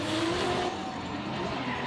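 A Formula Drift car slides sideways up the hill at Road Atlanta during qualifying. Its engine roars steadily while the tires squeal and skid in a loud, continuous wash of noise.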